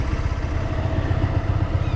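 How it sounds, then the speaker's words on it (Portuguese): Motorcycle ridden along a beach at Ponta Norte, the engine putting out a steady, close, pulsing chug with rough low-end texture and no talking. "Vou atravessar aqui e vou ver até onde eu consigo ir de moto."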